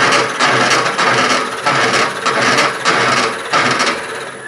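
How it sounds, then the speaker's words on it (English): Steady grinding, rasping noise of a hole being drilled in metal on a lathe, swelling and easing in repeated pulses over a constant machine hum. "And that will drill your hole."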